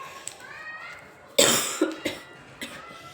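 Several coughs, one strong burst followed by a few smaller ones, close and clear over a quiet background.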